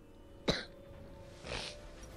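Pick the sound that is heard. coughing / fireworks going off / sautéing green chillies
coughing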